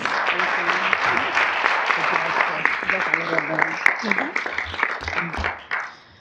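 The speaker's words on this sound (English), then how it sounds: "let's have an applause for Ms. Camilla Rice" An audience at a school board meeting applauds in a steady, dense burst of clapping that runs for several seconds before tapering off.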